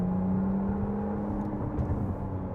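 A 2023 McLaren Artura accelerates onto a freeway, heard from inside as a steady engine drone and road rumble that builds slightly, with no talking.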